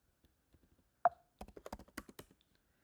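Typing on a computer keyboard while editing a file in vi in a terminal on a CentOS server: a single sharper tap, then a quick burst of about a dozen close, crisp key clicks, fairly quiet and with no talking.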